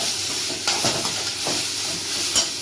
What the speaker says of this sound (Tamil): உப்பு போட்டு தேங்காய் போட்டு உப்பு போட்டு கிளறிக்கலாம்.